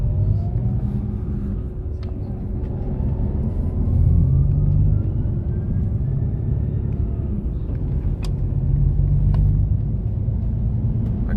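Inside a bus on a long road journey to Wexford in Ireland, a steady low engine rumble and road drone continues throughout, with a slight swell in the middle and faint rattles above it.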